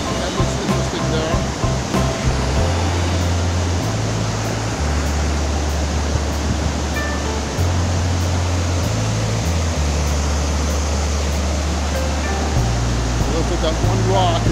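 At Bust Your Butt Falls in a gorge, a waterfall pours steadily into a pool below, making a loud continuous rushing roar with wind noise mixed in.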